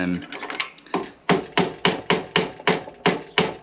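A run of evenly spaced hammer taps on the forks of a 1961 BSA A10 650 Super Rocket motorcycle, about nine in quick succession, crisp and fairly close, following a few softer knocks at the start.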